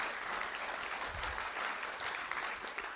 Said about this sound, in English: Could we give the students a round of applause?